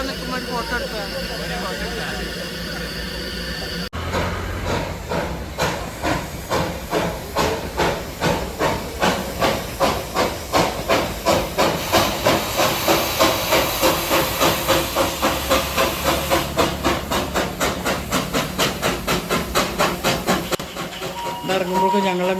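A coal-fired Darjeeling steam train hissing, its rhythmic chuffs building into a fast, loud regular pulse of steam bursts with a steady hiss, after a few seconds of quieter background at the start.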